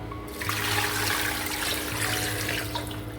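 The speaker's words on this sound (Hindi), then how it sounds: "अब हम इसी के हिसाब से हम पानी डालेंगे" Water running steadily into a cooking pot of mutton paya (goat trotters), a continuous splashing pour lasting a few seconds over a low steady hum, with no speech.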